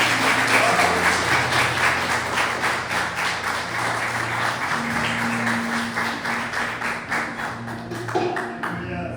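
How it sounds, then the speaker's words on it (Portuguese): A church congregation claps in a steady rhythm, loud and close, over sustained keyboard or organ tones, with the beat continuing throughout. "As palmas do Senhor"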